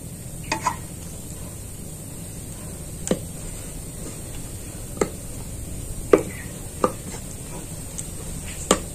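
A wooden rolling pin rolls out paratha dough on a board, giving a run of soft scattered taps and clacks over a low steady hum, with no one talking.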